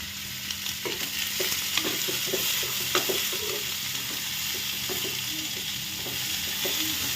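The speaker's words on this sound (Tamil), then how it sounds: "ஆனியனை போட்டு நல்லா வதக்கிக்கணும். கோல்டன் ப்ரௌன் கலர் வர அளவுக்கு நம்ம வதக்கிக்கலாம்." Sliced onions and curry leaves sauté in hot oil in a pan for an egg stir-fry, giving a loud, steady sizzle with repeated soft stirring scrapes throughout.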